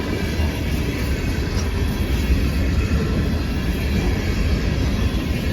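Freight cars of a CSX train roll past in a snowstorm, a dense, continuous rumble and rush of wheels and wind, loud and close without a break.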